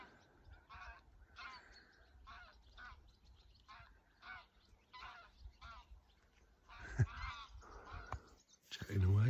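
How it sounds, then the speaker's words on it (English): Geese on a homestead honk repeatedly in a loose, chattering series, moderately near, with a few louder calls and clatter toward the end. "And some geese."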